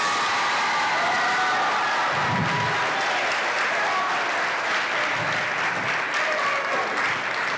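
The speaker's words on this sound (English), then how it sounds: "Can you please applaud those students?" An audience applauds orchestra students at a spring school concert, sustained close clapping filling the hall at an even loudness from start to finish, with a few low thumps underneath.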